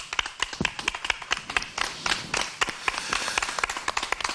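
An indoor audience claps to welcome an artist onto a stage, with sharp, irregular handclaps close by that build into scattered applause and continue throughout.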